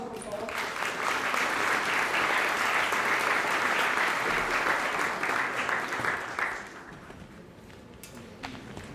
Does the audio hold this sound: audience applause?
yes